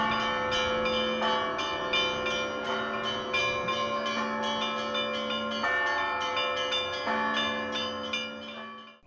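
Church bells peal for the Epiphany feast in Mytishchi, several bells struck in a steady overlapping rhythm with a ringing resonant hum, loud and close, no voices.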